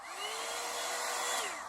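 A Revlon One Step hair dryer runs on its high setting with a steady, loud, close whooshing airflow and motor whine, holding a constant pitch that dips slightly near the end, with no talk.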